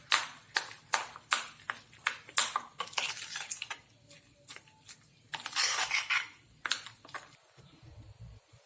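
Shrikhand with sugar is whisked in a bowl, giving bursts of sharp metallic clinks and scraping strokes in an uneven rhythm, close and fairly loud, with short pauses between runs of strokes.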